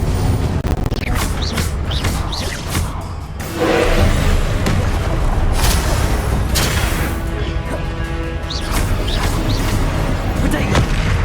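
Spell blasts from the Hogwarts Legacy video game, Confringo and Expelliarmus, as repeated whooshing bursts and booming impacts in quick succession, with a voice speaking over the combat.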